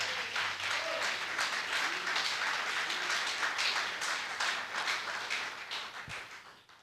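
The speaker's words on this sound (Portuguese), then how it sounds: "E uma salva de palmas ao Espírito Santo?" A church congregation bursts into sustained, even applause, a thick wash of clapping that holds steady and then tapers off at the close.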